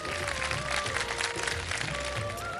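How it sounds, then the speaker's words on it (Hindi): A studio audience at a Ramadan iftar television show applauds. The clapping is steady and sustained, with a tonal music line running beneath it. "तालियां बजा दीजिए"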